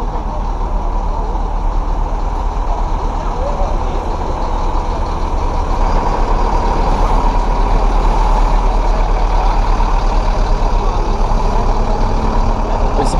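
Bus engines rumble loudly and steadily at a bus exhibition, a constant low diesel drone with a continuous hum throughout and faint voices in the background.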